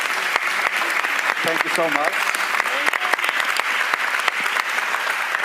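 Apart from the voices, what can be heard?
audience applause for a panel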